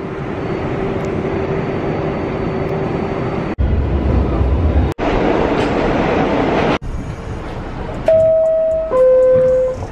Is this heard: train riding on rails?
yes